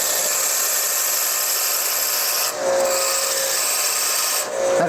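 A metal piece for a hinge bracket is pressed against a coarse grinder wheel, producing a loud, continuous abrasive rasp with two short dips where contact eases, close up with no talk.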